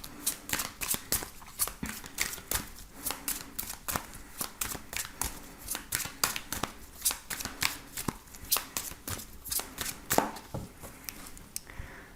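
Tarot cards shuffled by hand in a steady, rapid run of crisp papery riffles and slaps, close and continuous for several seconds with no talking.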